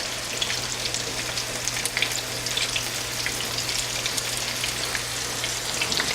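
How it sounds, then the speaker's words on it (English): Panko-coated shrimp fry in hot oil with a steady, close sizzling crackle and scattered pops throughout, with no voices. "we're going to let these fry up about maybe a minute and a half per side"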